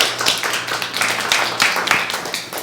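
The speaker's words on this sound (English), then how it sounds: "Give her a big round of applause." Burst of clapping from a small audience, a few seconds of quick, uneven hand claps.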